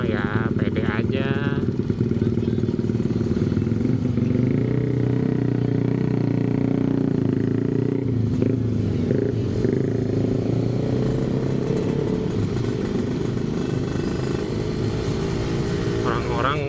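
Old Suzuki Satria two-stroke motorbike cruising a street on a Saturday night, its engine humming loud and continuous throughout at close range, with someone talking over the steady drone.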